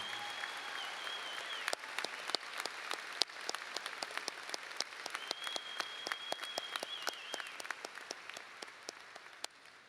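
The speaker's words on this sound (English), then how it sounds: "Can we have one more huge round of applause for all of our talented musicians who joined us this evening?" Audience at a high school graduation ceremony applauds the musicians, a long, fairly distant roll of clapping with sharp individual claps standing out, heard alone and slowly thinning toward the end.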